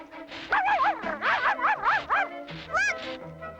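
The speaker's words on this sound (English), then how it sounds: "Maybe Puppy can dig them out." A cartoon puppy yips and barks in a quick run of bright, excited calls while digging through snow, loud and close, with a short pause before a final burst.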